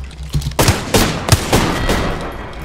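Gunfire in the video game Apex Legends: a series of sharp, loud shots arriving in irregular bursts of several rounds, close by, with a rumbling background between them.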